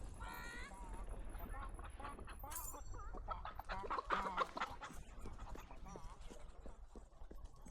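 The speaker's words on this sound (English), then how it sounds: "Time to find some chickens." Chickens clucking in the video game Fable 3, with repeated short clucks and squawks set against game ambience and hoofbeat-like clopping, while a voice talks over the sounds.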